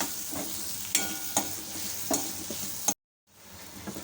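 Karnataka-style matwadi mixture stirred constantly in a pan over the flame, steady frying sizzle with repeated spatula scrapes and clinks up close, then a brief cut to silence before the sizzle returns.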